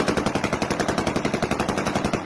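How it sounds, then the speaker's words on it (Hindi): Rapid aerial gunfire at a wedding mehndi celebration, fired by drunken police officers with government weapons, rings out as a fast, steady burst of about twenty evenly spaced loud shots, heard alone. "हवाई फायरिंग से अहले इलाका में खौफो हिरास पैदा हो गया।"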